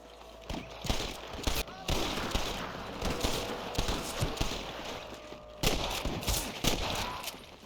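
Shootout gunfire in Red Dead Redemption, with scattered sharp gunshots cracking at irregular intervals over a constant background din, some shots close and loud, others further off.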